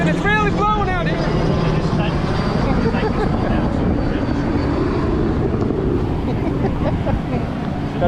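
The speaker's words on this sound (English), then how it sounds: "With the helicopter going over and all." Helicopter passing overhead at the iCast 2023 trade show, a loud steady engine drone with a pulsing rotor tone at the start, close and constant, with people talking nearby.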